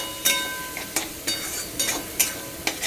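Spice masala of cumin, coriander, turmeric and chili powder is sautéed in oil, with a steady fry broken by about six rhythmic stirring strokes scraping the pan.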